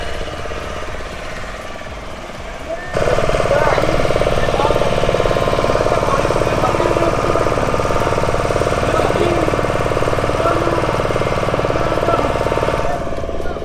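A boat engine idling on the water at Satapada, Odisha, a loud, steady mechanical chugging that kicks in after a quieter opening and runs evenly to the end.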